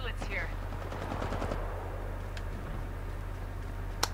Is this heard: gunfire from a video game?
yes